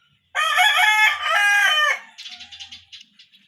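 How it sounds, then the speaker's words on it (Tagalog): A rooster crows loudly close behind, one long strained cock-a-doodle-doo followed by softer trailing clucks, with no talk over it. "Saba king manok sa kong likod."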